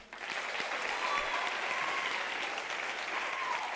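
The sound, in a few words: audience applause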